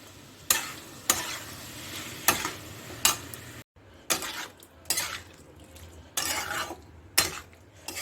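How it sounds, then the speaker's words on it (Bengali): A spoon scrapes and clanks against a pan while spice masala for kakrol curry is stirred, sharp strokes coming in an uneven rhythm over a low sizzle, near and moderately loud. "একটু নাড়াচাড়া করে সব মশলা একসঙ্গে মিক্স করে দিই"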